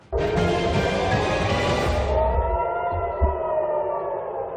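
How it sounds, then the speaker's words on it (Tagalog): Air raid sirens wail over Tel Aviv and the West Bank during an Iranian missile attack, a loud sustained civil defense tone that drops in pitch partway, with distant rumbling underneath. "Umalingaw-ngaw ang mga sirena sa West Bank at Tel Aviv, Israel dahil sa missiles ng Iran."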